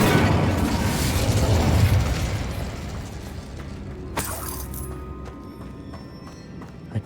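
An Incendio fire spell bursts in the Hogwarts Legacy video game, a loud roaring blast that fades over a few seconds, followed by a sharp crack and scattered small clicks and rattles in a quieter space.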